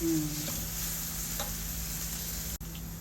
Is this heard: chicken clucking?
no